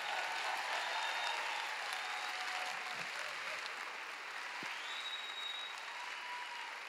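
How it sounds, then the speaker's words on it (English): An audience at a church healing conference service claps in a steady, continuous round of applause, fairly distant and even, with no voices standing out. "Clap your hands like we're taking over"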